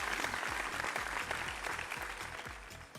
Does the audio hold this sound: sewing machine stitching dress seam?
no